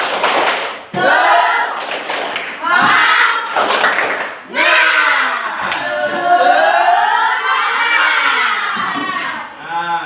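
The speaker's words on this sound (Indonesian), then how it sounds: "Tepuk semangat." Indonesian classroom performing a rhythmic spirit clap, loud bursts of patterned group clapping mixed with children's shouting and chanting voices, close and energetic.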